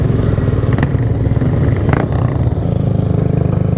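A steady, close engine drone from a scooter being ridden, a buzzing motor running continuously with slight rattling and no talk.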